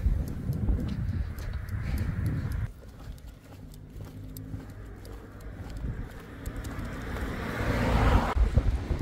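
Gusty wind rumbles across the microphone on a walk into Castleton in the Peak District, dipping and swelling again, with faint clicking footsteps and a distant engine hum underneath.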